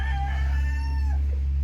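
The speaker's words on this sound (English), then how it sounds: "There's a black copper Moran rooster" A black copper Maran rooster crows once nearby, a drawn-out call that falls away at the end, over a steady low hum and faint ambient noise.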